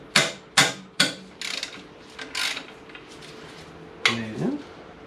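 Ratchet loosening an alternator bolt on a Subaru, three sharp metallic clicks followed by quieter ratcheting and a final clack with a brief metallic ring, close up.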